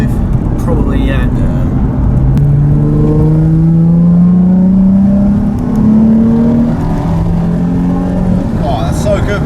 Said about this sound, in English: 3rd gear pull, right low down in the rev range, just pulls.